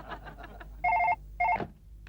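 A telephone rings in two short electronic bursts, close and clear, after some faint background sound.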